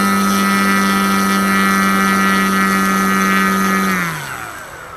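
A Freewing P-51 Old Crow RC plane's electric motor and propeller run at full throttle with the tail held on the ground. The loud, steady, high tonal whine lasts several seconds, then winds down in pitch, with no one speaking.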